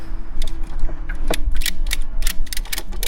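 A tie strap is ratcheted tight around a bike rack on a Class 1 hitch, giving a quick run of sharp mechanical clicks and ratcheting snaps, close and fairly loud.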